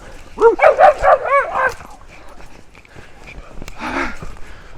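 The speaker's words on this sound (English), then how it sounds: "Small white dogs." Small white dogs on a spring country walk near Bath give a quick burst of close, high yipping barks, then a short pause and another yelp, with outdoor background noise.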